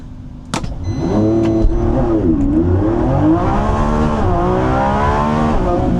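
A Lamborghini Revuelto launches hard under launch control from a standstill, its engine note climbing loud and near through rising revs with a gear change mid-run, with some wheelspin.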